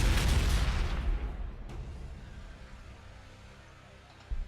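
A tank cannon blast in the Warhammer 40,000: Gladius strategy game, one heavy booming shot at the start whose rumble rolls off and fades over several seconds, with no talk.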